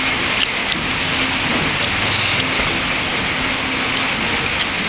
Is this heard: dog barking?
no